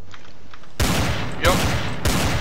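Gunfire rings out in Garry's Mod Trouble in Terrorist Town: after a near-quiet start, three loud sharp shots or bursts hit in quick succession, each with a booming tail.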